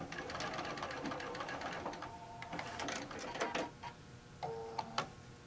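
A sewing machine stitches a quarter-inch seam on one end of a fabric gadget caddy, running in a quick, steady mechanical rattle. It slows into a few separate clicks near the end, close and alone.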